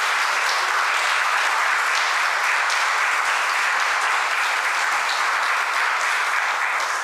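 Sustained, dense applause from an audience at a continuing-education graduation ceremony, steady and even throughout with no voices on top.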